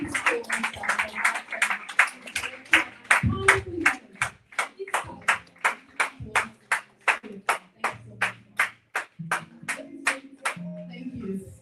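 Conference audience applause in a steady, rhythmic beat of sharp claps, about two to three per second, sustained for several seconds with faint voices underneath.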